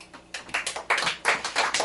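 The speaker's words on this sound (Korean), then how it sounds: "박수." Clapping in a church Bible class, a short run of sharp, irregular hand claps from a small group, close and fairly loud.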